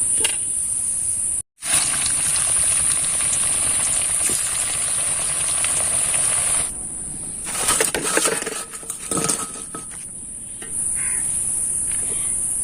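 Semolina and raw mango pakoras fry in hot oil, giving a loud, steady hiss that drops out briefly near the start, then turns to bursts of crackling before settling again.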